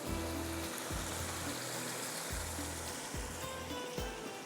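Water poured into a pan of potato curry, a steady loud sizzling rush that pulses in short repeated surges, close up with no talking.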